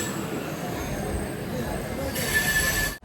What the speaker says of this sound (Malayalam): ഇവിടെ 3-ാം നമ്പർ പ്ലാറ്റ്ഫോമിലേക്ക് കാരയ്ക്കൽ വേളാങ്കണ്ണി DEMU വരികയാണ്.